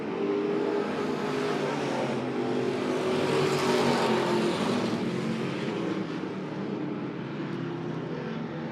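Pure stock race cars roar around Monett Motor Speedway in a POWRi feature, a dense loud engine drone that swells as the pack passes and then eases into distant revving.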